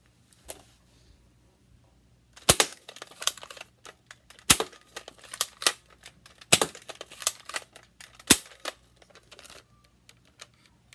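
Nerf N-Strike blasters firing Elite darts in a quiet room: a series of sharp, close snaps and clacks, several strong shots spaced about a second apart with smaller mechanical clicks of priming and handling between them.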